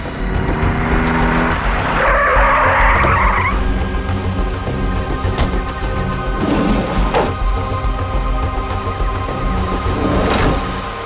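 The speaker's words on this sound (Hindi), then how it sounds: "टैक्सी।" A taxi car skids to a stop with a rising burst of tire squeal amid steady street traffic noise, followed by fainter engine and passing-car sounds.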